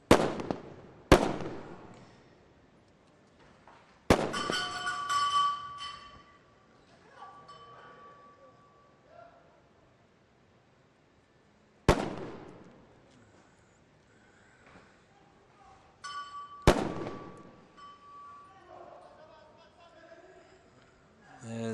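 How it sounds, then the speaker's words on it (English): Sniper rifles fire on ground-level targets at a SWAT Challenge competition, sounding as five sharp, loud, broadband cracks spaced several seconds apart, each with a short decaying echo, while a commentator talks over them. "Snipers are on the deck, engaging those ground level targets,"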